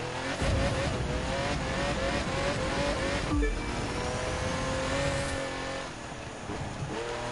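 A Lamborghini Countach races in The Crew 2, its engine revving hard and climbing through gears with a rising whine, dipping briefly before surging again, loud and up close with no talk over it.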